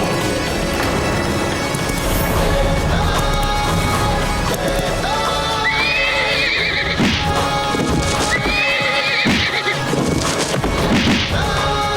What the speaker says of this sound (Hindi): पागल घोड़ा यहाँ क्या कर रहा है?